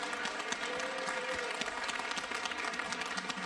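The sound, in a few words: audience applause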